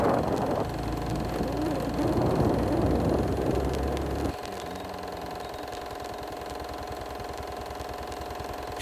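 A motorcycle taxi (ojek) engine drones while riding, a steady mid-pitched hum with a faint whine, fuller and rougher at first, then dropping abruptly to a quieter, even running tone that continues to the end.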